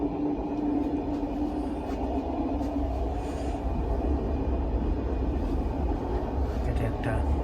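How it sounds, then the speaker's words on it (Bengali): Steady low rumble and rolling hum of a Eurostar high-speed passenger train running through a tunnel between Antwerp and Paris, heard continuously from inside the carriage with no voices. "এটা একটা টানেলের মধ্যে দিয়ে যাচ্ছে।"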